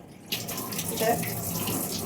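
Running tap water pours steadily into a sink, starting abruptly, with some splashing as black gram (urad dal) is rinsed under the flow.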